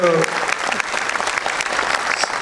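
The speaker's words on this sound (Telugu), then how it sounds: "గట్టిగా చప్పట్లతోటి వచ్చినట్టుగా స్వాగతం చెప్పండి" An audience at a formal launch event breaks into loud, steady clapping that fills the hall to welcome speakers, with a brief voice at the very start.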